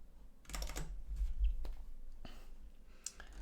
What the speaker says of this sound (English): I'm typing the expression of the loop condition.